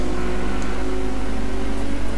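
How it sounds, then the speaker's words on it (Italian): Steady engine drone of a car in the racing video game Gran Turismo 2, a continuous even hum with a few faint tonal layers, loud and unbroken, no talking. "C'è il rumore della macchina che è una cosa incredibile questa volta"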